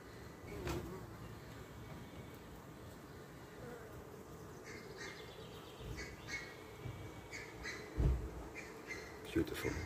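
Honeybees from a skep colony buzz in a soft, continuous hum, faint and steady, with occasional distant bird calls in the background.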